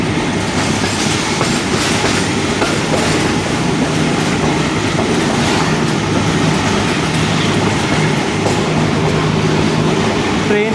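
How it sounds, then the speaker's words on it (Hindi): The Rehman Baba Express in Pakistan rolls along with a steady loud rumble and rhythmic clickety-clack of wheels on rail joints, heard close from on board as it gradually gains speed. "ट्रेन आहिस्ता आहिस्ता से अपनी स्पीड को बढ़ा रही है।"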